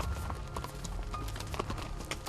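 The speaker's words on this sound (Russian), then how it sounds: "Груза так много, что нагружаем своими вещами лошадей и отправляем их вперед." Pack horses' hooves clip-clop steadily on a mountain trail, a dense run of close, overlapping hoof strikes over a low rumbling background with no talk.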